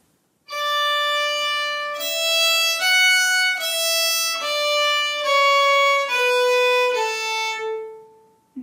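A single fiddle plays the opening phrase of the Manx tune Ta Cashen Ersooyl alone, clear and close, in a steady run of sustained bowed notes stepping downward to a long final tone.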